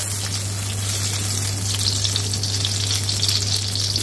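Butter melts in a hot pan for restaurant-style dal tadka and crackles into a dense, continuous sizzle, close and fairly loud, steady from start to finish along with a low constant hum.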